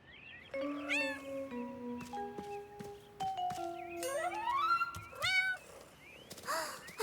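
A kitten gives a series of high, sliding meows, some drawn out and some short, over a quiet background.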